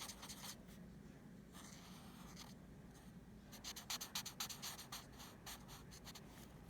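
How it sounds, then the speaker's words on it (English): Pen or marker drawing two small circles on paper for a fly's big eyes, giving soft scratchy strokes that turn into a quicker run of brisk scribbling marks near the end, close and quiet, with no talking. "we're gonna draw 2 circles like this"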